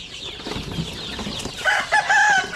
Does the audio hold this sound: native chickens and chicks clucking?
yes